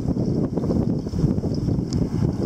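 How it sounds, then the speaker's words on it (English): A strong storm wind gust roars steadily against the microphone, a dense broadband rush that stays loud and unbroken throughout. "this is the biggest gust we've had in a while"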